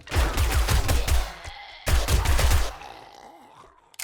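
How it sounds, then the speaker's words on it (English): Rapid SMG bursts from 7 Days to Die, loud close automatic fire in two sustained volleys separated by a brief pause, then fading into quieter ambience with a groan-like sound. "I'm going to switch to SMG."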